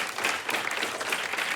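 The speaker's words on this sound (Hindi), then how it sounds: "एक बार जोरदार तालियां" Loud, dense applause from a live audience at a comedy show, steady clapping throughout with a faint crowd murmur.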